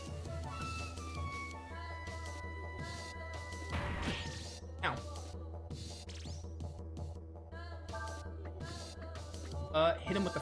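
Frost Strike attacks hit a boss in Breath of Fire IV, a few crashing impacts and swooshes over battle music with tonal game effects.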